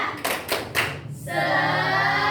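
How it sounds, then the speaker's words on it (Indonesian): A classroom of students doing a rhythmic cheer clap, three sharp group claps in quick succession followed by a sustained tonal sound. "kita tepuk semangat dulu nih biar semangat"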